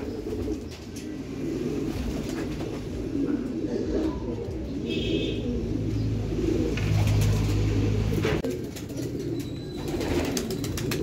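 Restless racing pigeons coo repeatedly at the loft as birds arrive one after another, a close, continuous chorus of throaty calls with occasional wing flutters and chirps.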